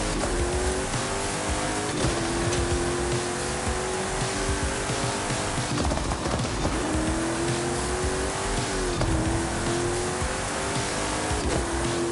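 A race car lapping a track in a racing video game, its engine droning steadily and loud throughout, pitch rising and falling with shifts and corners, with no gaps.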